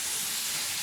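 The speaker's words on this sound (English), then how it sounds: "I'm going to add in a little bit of our sweet barbecue sauce. And that's going to sizzle." Sweet barbecue sauce sizzles in a pan with peppers and onions, a steady broadband hiss at moderate volume with no voices over it.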